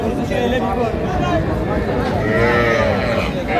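Cattle moo at a busy calf market in Manikganj where young bulls and heifer calves are traded, the lowing calls rising over a steady crowd murmur and nearby chatter throughout.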